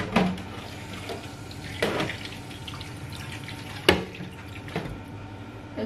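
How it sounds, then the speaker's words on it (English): Tap water runs and splashes into a pot of broccoli and cauliflower being readied for a cheese bake, with a few sharper clinks and pours over a steady trickle, close and moderately loud, with no talking. "So I'm just going to add some water to it, and then I'm going to cook it."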